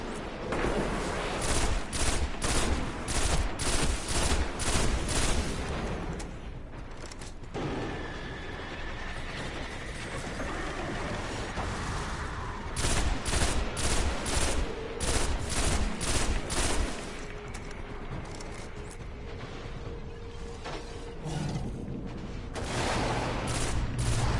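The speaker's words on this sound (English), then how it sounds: "Too many of those guys shooting at me at the same time, right?" Enemy gunfire in the Destiny shooter game: dense volleys of rapid automatic shots, loud and close, come in two long bursts separated by calmer stretches of rumbling battle noise, with no voices.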